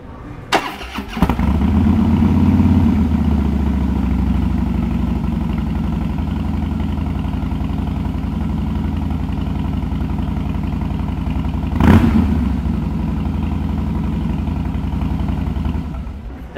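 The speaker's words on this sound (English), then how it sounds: "We're going to go ahead and start this motorcycle up." A 2012 Harley-Davidson Fat Boy Lo motorcycle engine cranks and catches, then settles into a steady, deep idle with a brief blip of throttle partway through.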